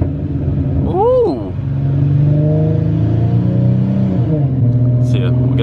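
A car with a supercharged V6 engine rumbling and revving through a couple of downshifts, steady and close, with a rising and falling whine, a brief pop, and a voice talking over the engine.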